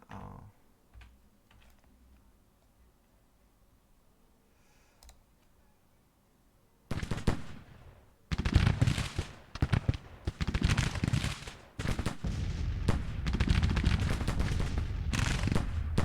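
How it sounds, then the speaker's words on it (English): Civil War battle gunfire in the strategy game Grand Tactician: a quiet stretch, then a sudden dense run of crackling musket volleys and sharp pops that continues loud and irregular to the end. "Are they firing? Yeah, they are firing."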